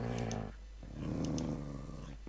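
A dog growls in a Minecraft multiplayer game while it attacks another player's dog. Two short, close, rumbling growls are separated by a brief pause, with no talking.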